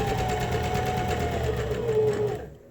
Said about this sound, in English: So I'm going to sew this seam allowance.